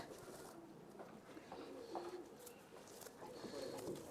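Rajshahi local Giribaz and Pakistani-bloodline pigeons coo softly nearby, low repeated throaty calls over a faint, steady background.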